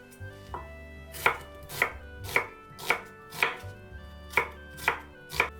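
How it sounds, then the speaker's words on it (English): A knife chops vegetables such as carrot, onion, pepper and celery into chunks on a board, giving about nine crisp, evenly spaced strokes, close and clear with no talk. "Cut all the vegetables into chunks."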